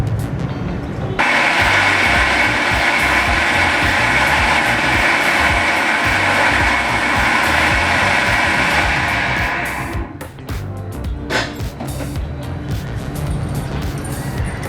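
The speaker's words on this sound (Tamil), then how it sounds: "இப்போ வந்து இதை நான் வந்து மிக்சியில் வந்து நான் அரைக்கிறேன்" An electric mixer grinder whirs loud and steady, blending a quick chutney for idli and dosa, then stops near the ten-second mark and leaves quieter rattles and clicks.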